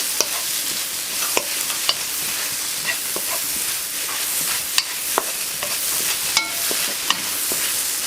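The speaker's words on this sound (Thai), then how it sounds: "ใส่ผักชียาลงไปค่ะ ยังผัดไข่เลยนะคะ" Chaiya vegetables (chaya leaves) and egg stir-frying in a hot pan: a steady, close sizzle with repeated sharp scrapes and clicks of a spatula stirring throughout, no voices.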